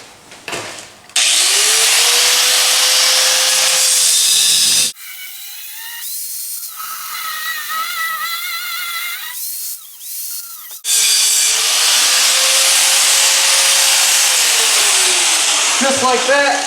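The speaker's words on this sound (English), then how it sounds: "So let's get to cutting the sketchy bolt." Loud corded power tool cutting through a bolt on a lowered 4x4 Dodge Ram 1500, two long close bursts of whining, hissing cutting with a quieter stretch of faint speech and idle noise between them.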